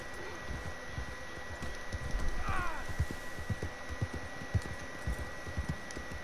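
Horse hooves clop in a quick, steady rhythm in the video game Red Dead Redemption 2 Online, with a brief whinny-like squeal partway through and faint talk in the background.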